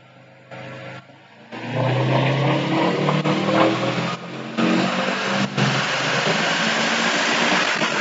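Turbocharged Subaru STi fitted with an EJ20X engine revving up through a pull, a loud rising engine drone building steadily after a short quiet start, with no voices.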